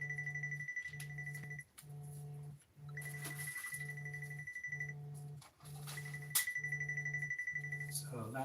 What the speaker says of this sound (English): Won't answer the phone.